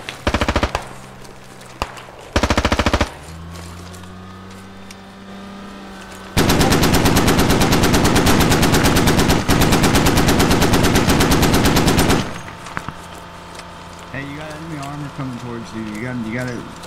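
Squad gunfire in a military video game, with short bursts early, then a long sustained machine-gun barrage ringing loud, followed by scattered shots while voices talk in between.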